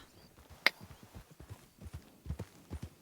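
Horse hooves clip-clopping in a Red Dead Redemption 2 roleplay game, a steady, moderately close series of soft thuds under a faint background, with one sharp click early on.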